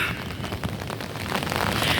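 Night thunder during an autumn storm, heard from indoors with light rain falling: a continuous loud, rolling rumble with faint pops and bursts over a wash of noise, and no talking.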